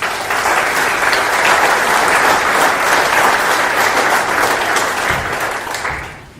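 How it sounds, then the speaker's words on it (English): Audience at a community organization's meeting breaks into sustained applause, dense steady clapping from many hands filling the room, holding loud for about five seconds before tapering off at the end. "I think we ought to give ourselves a round of applause."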